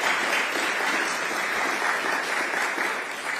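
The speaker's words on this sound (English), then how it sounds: "So one more applause for that, please." Dense, even applause from an audience at a press event, continuous clapping holding at a steady level for a few seconds.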